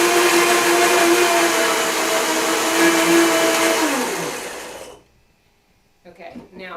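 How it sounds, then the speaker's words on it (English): A blender whips cashew cream sauce on high speed, a loud, steady whirring roar for about five seconds before winding down and stopping, followed by a short stretch of silence and then a voice. "I like to blend it on high speed because you want it really nice and creamy"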